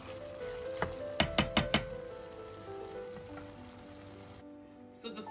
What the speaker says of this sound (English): still allow it to carry on sauteing until the red peppers are a bit soft